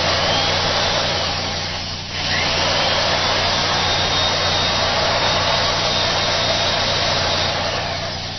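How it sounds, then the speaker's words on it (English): A vacuum cleaner powered through an inverter drones in a loud, steady broadband roar with a constant low hum, briefly dipping once before resuming unbroken. "This is a vacuum cleaner,"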